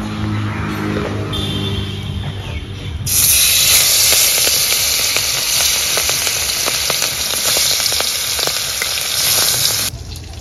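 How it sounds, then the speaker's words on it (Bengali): Hilsa fish pieces are fried one by one in hot mustard oil in a kadai. A loud, bright sizzle bursts in after a quieter start and holds steady until it drops away near the end. "এবারে একে একে মাছগুলো ভেজে নেব।"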